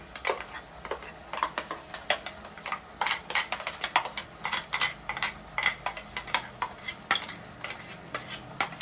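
A spoon stirs tomato paste into mutton curry in a pot, producing rapid, uneven metallic scrapes and clinks against the vessel, close and fairly loud, with a faint simmering sizzle underneath.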